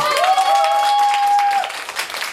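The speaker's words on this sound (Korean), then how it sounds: "지우 씨한테 큰 박수 한번 보내주세요." An audience at an open-mic show in a Daehangno coffee shop claps for a singer. The clapping is brief and fairly loud, and a long sustained high tone, like a whoop or held note, rings over it before fading.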